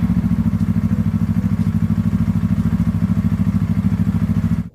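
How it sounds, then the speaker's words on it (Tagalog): A Yamaha R3 V2 motorcycle engine warming up at idle before an oil change, with a steady, rapid, loud throbbing pulse close by that cuts off abruptly near the end. "painitin ang makina bago i-drain ang langis"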